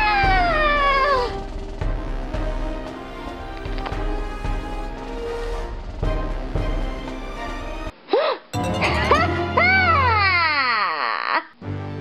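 In a video game, a cat meows repeatedly in drawn-out, wailing cries, some rising and falling, set against game music and effects.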